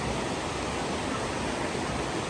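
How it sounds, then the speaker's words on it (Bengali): A hill stream splashes against rocks in a forested spot, a loud, steady, broadband rush of water filling the whole moment with no voices. "পানি পাহাড়ের সাথে ধাক্কা খাইতেছে আর শব্দ করতেছে"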